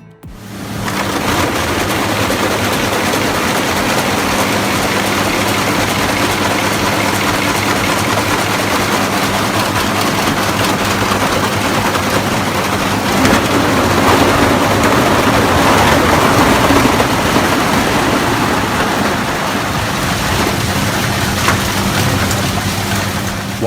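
An industrial shredder crushing plastic pallets runs as a loud, steady, heavy mechanical drone that holds unbroken throughout, with a deep low rumble and no pauses.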